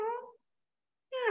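A person imitates a cat's meow twice, two short, clear vocal meows separated by a brief silence.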